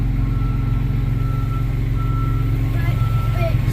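A large vehicle rolls backwards with a steady repeating reverse beeper over a low engine rumble, loud and close for a few seconds.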